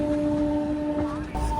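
A train on an Indian line near Roha, heard as steady tonal horn-like hums held throughout, with a brief louder burst near the end over background rumble.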